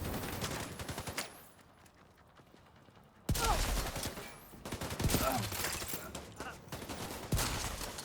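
Gunfire rips through a video game shooter, with pistol shots hitting reanimated enemies as bursts of rapid reports that stop for a quiet stretch, then return loud and crowded.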